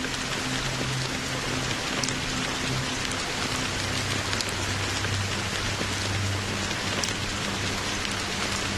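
Rain falling in Honkai: Star Rail, a dense steady hiss of drops on surfaces with faint low rumbling beneath, no talk.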